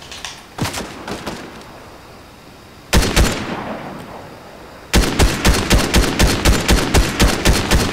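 Gunfire in the Fortnite video game: a few isolated shots, then a burst, followed by a rapid, evenly spaced volley of loud close shots.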